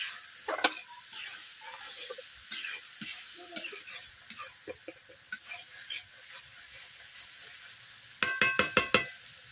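Spice masala gravy for a cabbage and potato curry being sautéed in a wok with a splash of water, heard as a soft steady sizzle under repeated scraping stir strokes, with a quick burst of close metallic clinks near the end.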